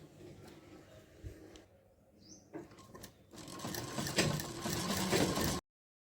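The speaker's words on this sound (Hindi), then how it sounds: "हमें यहाँ पे किनारे से सिलाई लगानी पूरे राउंड में" Sewing machine stitching around a kurti neckline next to buckram, a fast mechanical whir that pauses briefly and then runs steadily and louder until it cuts off.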